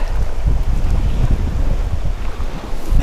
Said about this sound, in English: that wind's blowing over 20 miles per hour